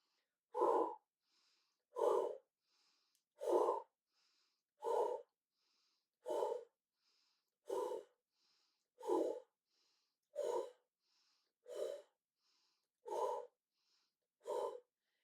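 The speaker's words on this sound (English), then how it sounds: "So breathe in through the nose, out through the mouth." Qi gong breathing practice, drawing air in through the nose and out through the mouth, heard as eleven steady, evenly paced breathy rushes about every 1.3 seconds, close and quiet, with faint softer breaths between and no talking.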